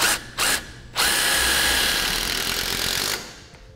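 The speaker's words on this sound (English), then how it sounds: "And then use my self-tapping screw to secure it." A power drill drives a self-tapping screw into a half-inch metal loom clamp, two short bursts followed by one steady whirring run of about two seconds, close and loud, with no talk.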